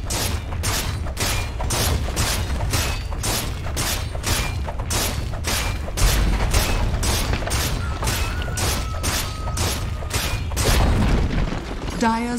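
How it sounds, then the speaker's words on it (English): Heavy rhythmic booms from a Dota 2 tower under attack pound in a steady rapid series, loud and continuous throughout. "Dire's bottom tower is under attack."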